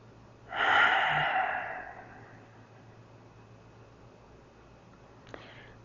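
A single long, audible exhale through the nose during a gentle lying stretch, close and soft, fading into quiet room tone with a faint click at the end.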